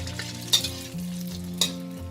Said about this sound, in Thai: เราไม่จำเป็นต้องใช้น้ำมันเยอะนะเราค่อยๆทอดค่ะ